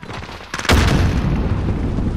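A grenade explodes in Modern Warfare hardcore Domination: one loud, close blast lands suddenly, followed by a rumbling, slowly fading tail with no talk.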